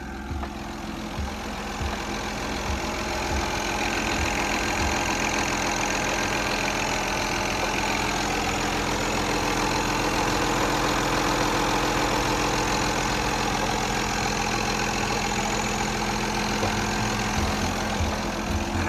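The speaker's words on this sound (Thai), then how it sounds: "เดี๋ยวลูกค้าลองฟังเสียงนะครับก็จะสังเกตได้ว่าเสียงเครื่องยนต์ของเขาเนี่ยก็ทำงานได้ค่อนข้างแน่นปกติดีมากๆนะครับ" Komatsu WA430-6 wheel loader with a 4-cubic-metre bucket, its diesel engine idling in a steady, dense low rumble with a faint knocking pulse, close and constant without talk.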